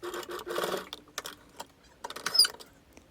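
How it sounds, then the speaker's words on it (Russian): A sewing machine stitches around the edge of a patchwork fabric piece, heard as faint, short bursts of mechanical rattling separated by quiet gaps and small clicks. "И сейчас по контуру прострочу по кругу, оставив небольшое отверстие для того, чтобы вывернуть эту деталь."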